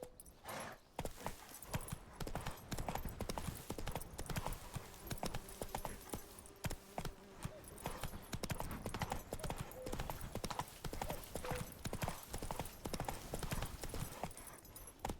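Roach, the horse in The Witcher 3, trotting with hooves clip-clopping in a fast, steady rhythm that stays close and prominent throughout.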